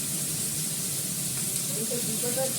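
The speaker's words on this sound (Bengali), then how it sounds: "আমি এটা কালো দিয়ে ফোড়ন দিয়ে করছি।" Nigella seeds crackle and sizzle in hot oil during tempering, a steady broadband hiss with faint sputtering, while a voice talks over the cooking.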